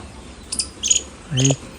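Insects chirp outdoors in a few short, bright bursts over quiet background noise, with a voice briefly heard.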